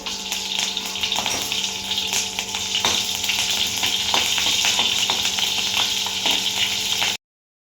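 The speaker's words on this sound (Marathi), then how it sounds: "आता येथे आपली मिरची पण छानपैकी तळली गेली आहे" Slit green chillies frying in hot oil in a pan for khaman dhokla tempering, a loud, close, steady sizzle with crackling spatters that runs continuously and then cuts off abruptly.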